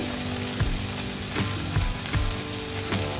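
Paneer bhurji frying in a pan, dhaba style: a steady close sizzle with a few brief scrapes and stirs of the spatula, no talking.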